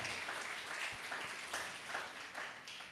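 Applause from a group clapping together fills the whole stretch, a dense, steady patter of many hands at moderate level with slight swells.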